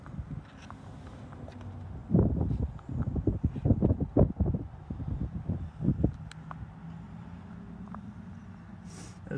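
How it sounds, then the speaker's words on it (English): Gusty wind blows outdoors at a parked car with a door that won't stay open, buffeting the microphone in irregular low bursts, strongest in the middle and quieter at the edges. "A little windy here, so the door don't want to stay open."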